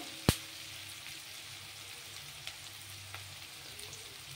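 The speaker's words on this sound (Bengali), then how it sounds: "পেঁয়াজটা মোটামুটি ভাজা হয়ে গেছে।" Onions frying in a pan for a yogurt chicken curry, a faint continuous sizzle with one sharp utensil clink near the start and a few light taps later.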